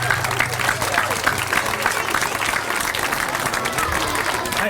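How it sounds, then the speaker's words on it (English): An audience applauds at an outdoor time capsule reveal and groundbreaking ceremony for a school, steady dense clapping sustained throughout with crowd murmur mixed in. "How about a round of applause for her?"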